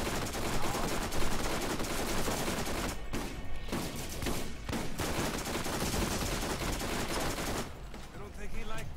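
Sustained gunfire from the video game Borderlands, dense overlapping bursts with a couple of brief pauses, loud and continuous throughout, with a voice faintly present underneath.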